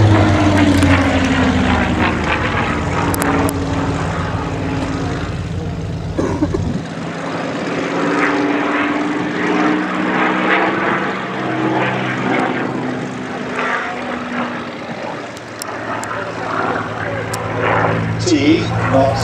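A clipped-wing Spitfire Mark 16 flies past at the Duxford air show, its piston engine a loud, continuous propeller drone that swells and fades over about twenty seconds, with a commentator talking over it.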